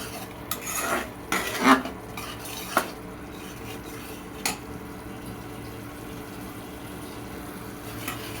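Small fish being stirred in a spice paste in a pan, with a few sharp metal spoon scrapes and clinks against the pan early on, then a quieter steady simmer with an occasional tap.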